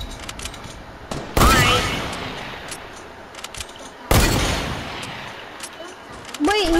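Gunfire in Fortnite sounds in two loud, abrupt bursts that ring out and fade over a couple of seconds, with lighter pops in between and a voice briefly heard at the end.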